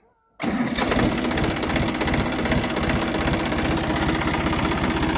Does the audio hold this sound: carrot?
no